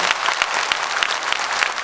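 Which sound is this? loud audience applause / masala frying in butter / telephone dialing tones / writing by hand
loud audience applause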